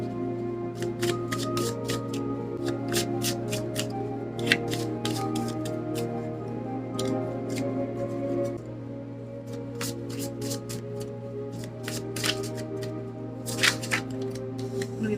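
Tarot cards being shuffled and drawn, a steady run of soft papery riffles and flicks over a constant low background hum, close and fairly quiet, with no talking.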